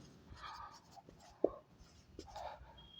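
A teacher writing a sentence on a board during an English grammar lesson, with a few brief scratchy strokes and taps of chalk or marker, close and soft, alongside faint breathy voice sounds.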